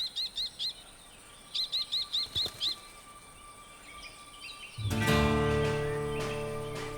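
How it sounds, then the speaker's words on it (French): A common kestrel calling in daytime countryside, two bursts of rapid, repeated high-pitched shrill notes, moderately near, followed by a rising background of other sounds. "Un faucon cresserelle, dont le nom évoque son cri au perché."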